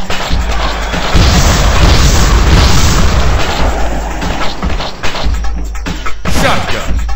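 Airstrike explosions in the zombie video game Zombocalypse, a loud sustained booming rumble that fades and then returns as heavy deep blasts, close and dominant.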